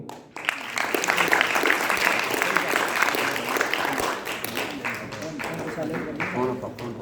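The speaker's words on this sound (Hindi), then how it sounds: "आपकी जोरदार तालियों के बीच" Sustained audience applause fills a hall at a cultural function by blind artists, dense steady clapping from a crowd that holds at full strength for several seconds with faint voices mixed in.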